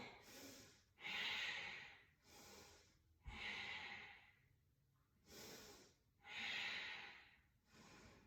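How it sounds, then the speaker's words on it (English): Deep Ujjayi yoga breathing, slow audible inhales and exhales alternating in long rasping swells of about a second or two each, close and quiet with no talking. "Deep Ujjayi breaths, send it in."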